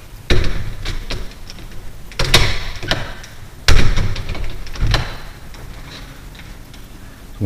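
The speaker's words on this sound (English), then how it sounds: "Okay, so the door doesn't latch." A flimsy foyer door with an electric strike is pushed shut several times, giving a series of loud knocks and thuds that never settle into a latch click, with no talk.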